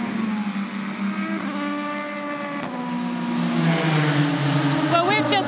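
LMP1 prototype race cars scream past at the Nurburgring during a WEC six-hour race, engine notes climbing through gears and swelling as they near, with a commentator talking over the roar.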